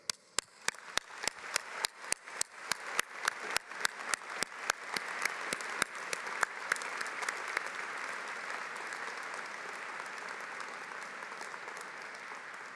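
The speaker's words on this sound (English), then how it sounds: "as you acknowledge them with a clap" A commencement ceremony audience at Harpur College of Arts and Sciences starts with a few sharp, separate claps that quickly swell into broad, sustained applause, then holds at a softer, even level toward the end.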